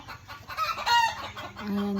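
Hens in a coop at a rural provincial home, clucking and cackling after laying eggs, a few nearby drawn-out calls rising and falling, with one longer steady cackle closing the stretch.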